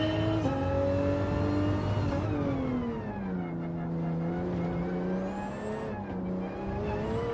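A Group 4 race car at Suzuka in Gran Turismo 7 drones loudly and continuously, its engine pitch shifting through gear changes and rising and falling revs, with no talk over it.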